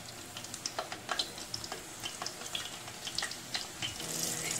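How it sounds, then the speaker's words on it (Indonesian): Eggplant slices frying in hot oil in a home kitchen pan for a taameya sandwich, giving a steady close crackle and sizzle with scattered pops and small splashes throughout. "Dan ini terong akan digoreng buat bikin sandwich"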